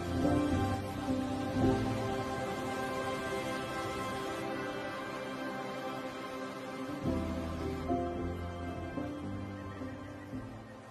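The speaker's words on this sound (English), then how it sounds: "with the water pounding and the mist heavy in the air" A pounding waterfall sends up a steady, dense roar of rushing, splashing water that stays loud and unbroken throughout, with no voices.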